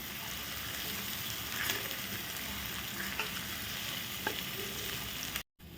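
Spice paste sautéing for a fiery horse gram shengole dish: a steady, close sizzle with occasional soft stirring scrapes, and no talk. It cuts out sharply near the end.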